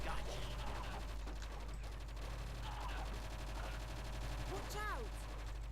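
Gunfire from a cannon mounted on a dog in the video game Project Eden, heard as a busy run of rapid shots over a constant low hum, with a few electronic chirps near the end.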